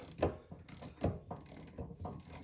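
Metal mechanism on a rusty RK 60 29B mower deck cracking and clicking as a wheel puller breaks rust loose, a series of sharp close snaps and ratcheting knocks at irregular intervals.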